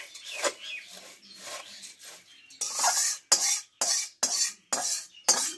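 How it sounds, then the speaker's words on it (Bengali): Puffed rice being tossed and mixed with mustard oil and spices for masala muri, heard as dry rustling scrapes from a spoon against a bowl, softer at first and then a run of louder, rhythmic stirring strokes close by. "এবার ভালোভাবে সবগুলো মাখিয়ে নেব।"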